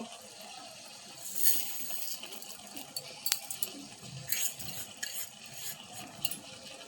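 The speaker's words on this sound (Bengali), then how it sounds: "নেড়ে নিয়েছি।" Stirring tomato chutney in a pot after sugar and batasa are added, with soft irregular scraping and stirring sounds at a low level and a few faint clinks.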